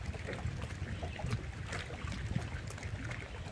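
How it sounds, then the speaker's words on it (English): Strong wind gusts over the Cumberland River during a smallmouth fishing trip, a steady broadband rush with buffeting across the whole clip and faint water movement underneath, with no talking. "That wind is kicking pretty good."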